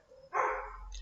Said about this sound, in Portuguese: Tem um diacho de um cachorro da vizinha que todo dia nesse horário ele dá um surto psicótico